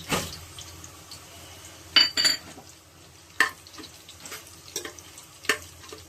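Onions fry in ghee in a pan for potato biryani with a soft, low sizzle, broken by several sharp clinks and scrapes of a spoon stirring against the pan.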